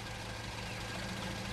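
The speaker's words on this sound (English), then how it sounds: "You know idling is bad for the environment," A car engine idling, a low steady rumbling drone heard alone at moderate distance, faint and unchanging with no voices.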